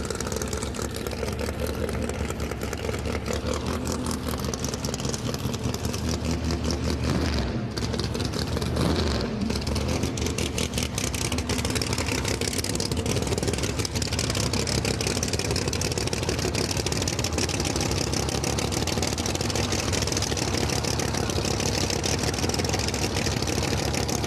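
Nitrous-fed Camaro drag car on a hot-day outlaw drag racing track, its engine roaring loud and continuous at high revs throughout, with a brief dip in the middle.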